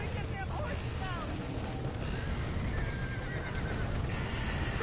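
Horses neigh and whinny in a Red Dead Redemption game scene, their calls rising over a dense, loud wash of action noise, hoofbeats and shouting voices.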